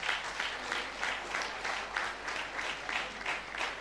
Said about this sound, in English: with a round of applause, I present to you the Vice Chancellor of Fountain University, Professor Olayinka Ramatakari.